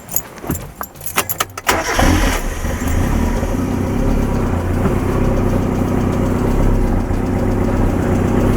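A Mazda Miata engine with its airflow sensor removed cranks after some jangling and clicks, then settles into a loud, close idle that wavers slightly and runs on steadily.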